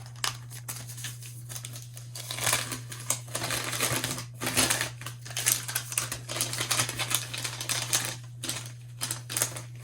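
Calculator keys are pressed while tallying receipts, producing rapid, close plastic clicks in uneven bursts over a low constant hum, with faint paper rustling and no talking.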